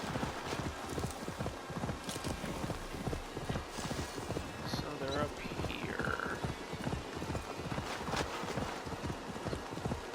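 A horse gallops at a steady, rapid clip-clop through the whole stretch in Assassin's Creed Valhalla, with the hoofbeats loud and continuous under game ambience while someone talks briefly.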